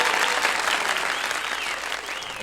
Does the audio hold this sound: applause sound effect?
yes